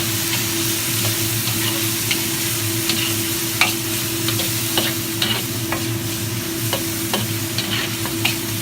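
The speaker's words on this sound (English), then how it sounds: "You add your tofu and your bean curd. So give it a good mix." Mapo tofu with tofu and bean curd frying loudly in a pan, a dense continuous sizzle broken by regular scraping strokes of a spatula, with no talking.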